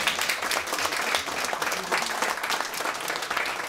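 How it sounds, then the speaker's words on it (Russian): A theatre audience claps steadily, a dense wash of many hands with slight surges in intensity, loud and close with no voices over it. "Аплодисменты."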